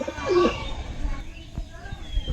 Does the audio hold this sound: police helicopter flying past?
no